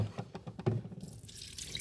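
Dirty water from a Hoover FloorMate floor cleaner's tank is poured out in a short, close splash of trickling and dripping, then a brief wash of running water.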